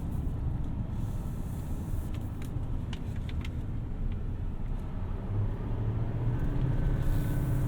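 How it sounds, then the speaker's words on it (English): A 2024 Chevrolet Silverado 2500HD High Country with a Duramax diesel accelerates, its low, steady engine rumble rising slightly as the turbo spools, heard continuously from inside the truck without talking. "you can really hear the turbo spool up"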